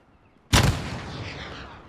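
An RPG rocket launcher fires in a video game: one loud, sudden boom that breaks in after a quiet stretch, then a long rumbling tail that slowly fades.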